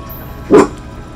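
A single short, loud dog bark comes from the Monster Hunter World video game over a steady low background hum.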